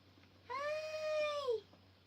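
A house cat gives a single drawn-out meow lasting about a second, fairly quiet and close, falling in pitch at the end, with a low steady hum underneath.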